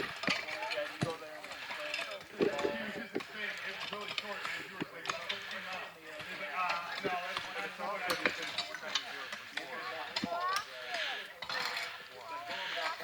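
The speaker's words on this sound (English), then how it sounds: "Here's the sound of working on a trail." Volunteer crews work an Ozark Trail section with hand tools, scraping and metallic clinks scattered irregularly at moderate distance while people talk throughout.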